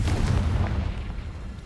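A Confringo spell explodes in Hogwarts Legacy, a loud, deep booming blast at the start that rumbles and fades over the next second, with no talking.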